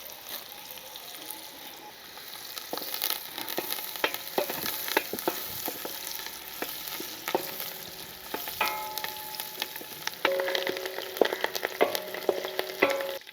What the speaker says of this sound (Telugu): తరిగి పెట్టుకున్న ఉల్లిపాయ ముక్కలు, ఒక 10 పచ్చిమిర్చి చీలికలండి, ఇవి 2 వేయించుకుందాం